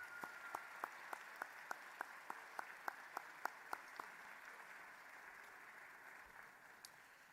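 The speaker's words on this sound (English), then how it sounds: "Please give them a round of applause." Students at a school civil rights program give the bus drivers a round of applause, a faint, distant hall where a few sharp evenly spaced claps ring out over a soft murmur, thinning and fading toward the end.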